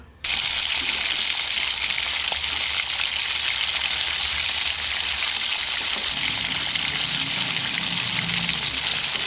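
Onion hits hot oil in a pan with a sudden sizzle, then fries in a steady, loud, close hiss with crackling for several seconds.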